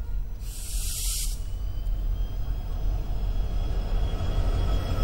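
A train with Spanish Talgo coaches runs on a trial between Bareilly and Moradabad, India, giving a steady, close rumble of rolling wheels. A brief burst of hiss sounds early on, and no one speaks.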